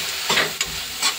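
Helencha greens frying in a pan with onion, garlic, cumin, green chili and tomato, with a steady close sizzle and a few brief stirring scrapes over about a second.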